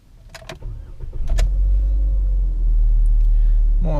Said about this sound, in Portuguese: vamos ligar a Toro.